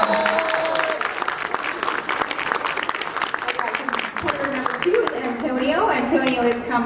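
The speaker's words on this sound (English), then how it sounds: "Audience, let's give them all a big round of applause." An audience at a barber battle competition gives the competitors a round of applause, a steady clatter of clapping with cheers, while an announcer's voice and other talk carry over it, rising toward the end.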